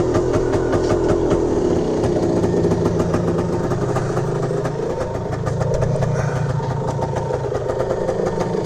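A 1978 Yamaha DT400 motorcycle engine idles steadily nearby, a continuous low mechanical putter with fast regular pulsing and no rise in revs, alone without talk.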